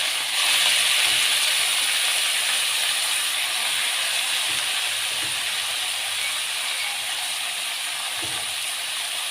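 Spinach (palak) hisses in hot oil seasoned with asafoetida in a pan while a Kathiyawadi-style shaak cooks. A close, steady hiss holds throughout, broken by a few soft knocks, with no voices.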